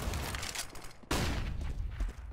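Pistol gunfire in the tactical shooter CS:GO, a few sharp shots cutting through loud, busy game noise, with one especially abrupt burst in the middle.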